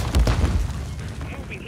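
A stun grenade detonates in Modern Warfare III multiplayer, a heavy low boom early on that rolls into a muffled rumble with scattered game noise and a faint high whine trailing after.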